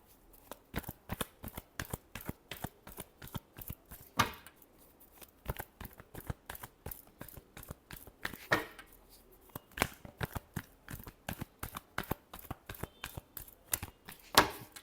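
Tarot cards being shuffled by hand, a rapid series of crisp riffling snaps and flicks in uneven bursts with short pauses between, close and fairly quiet with no talk.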